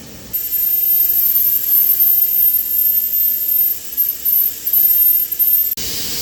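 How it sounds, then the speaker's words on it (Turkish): A CNC machine reams a 20 mm H7 hole at 100 rpm and a feed of 10, giving a steady, loud, hissing machine whir that runs for several seconds before stopping abruptly near the end. "Raybaya 100 devir 10 ilerleme veriyorum"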